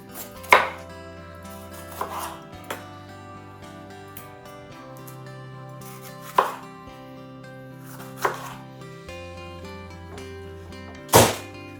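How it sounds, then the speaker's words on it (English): A knife chops a bell pepper on a cutting board for a sweet corn salad, giving a handful of sharp, well-spaced thunks over soft, steady tonal background sound. "And then we're just going to cut our pepper"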